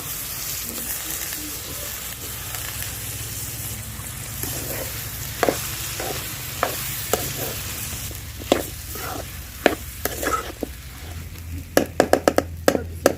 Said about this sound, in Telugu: ఉప్పు నీళ్ళల్లో నానబెట్టుకున్న బంగాళదుంపలు అయితే వేసుకుంటున్నాను